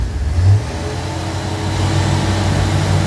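Engine of a 50-plus-year-old classic Bricklin revved in a brief burst, then held at a steady, raised drone, close and fairly loud in a workshop setting during an A/C recharge.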